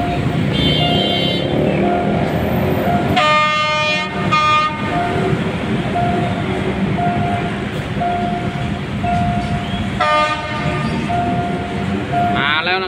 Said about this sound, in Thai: เข้าจอดที่อยู่รถอโศกนะครับ เป็นขบวนที่367นะครับ